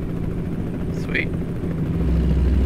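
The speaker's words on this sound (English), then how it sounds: "I wonder if that was a medevac helicopter." A helicopter flies overhead in American Truck Simulator, a loud, continuous low rotor rumble that swells near the end, with a short chirping blip partway through.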